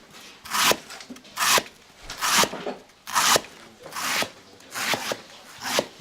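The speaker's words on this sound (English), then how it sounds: "He really finely sliced the banana stalk" Banana stem being finely sliced by hand for Balinese banana stem soup, heard as a close, regular series of crisp cutting strokes, about one per second, with no talk.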